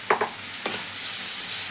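Chicken being stirred in a pan of masala for cutlet masala, a few short scraping strokes near the start, then a quiet steady hiss without talk.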